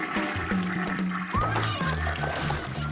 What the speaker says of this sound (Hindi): तुम्हारे टॉयलेट का फ्लश खराब हो गया है।